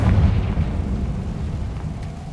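The Confringo fire spell explodes in Hogwarts Legacy with a heavy, booming low-end blast that rumbles loudly and then slowly fades into a lingering roar.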